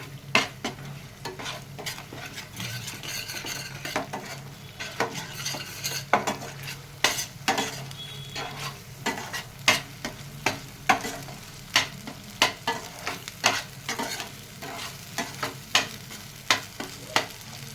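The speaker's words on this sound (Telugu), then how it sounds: "ఒక 2 నిమిషాలకి ఇలా కలుపుకుందామండి." Rajma gravy masala sizzling in a pan while a utensil stirs it, steady frying hiss beneath a run of sharp, irregular scrapes and clinks against the pan that grow more frequent toward the end.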